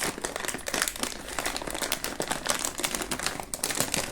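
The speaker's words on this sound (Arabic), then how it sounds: "نفتح اول كيس" Plastic bag of Egyptian Rivalo toffee crinkling as it is opened, dense continuous rustling and crackling close up for several seconds, no talk.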